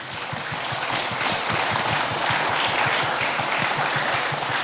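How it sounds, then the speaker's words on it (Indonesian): Sustained audience applause at a formal gathering held during Pope Francis's visit to the KWI office, dense and steady throughout at fairly close range, with no talk over it. "Mari kita tepuk tangan sekali lagi."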